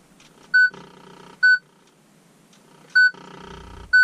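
A Citroen RD4 car radio sounds a loud beep as it switches on, two short, sharp tones a second apart, repeated after a pause, with a low hum and fainter electronic noise between them.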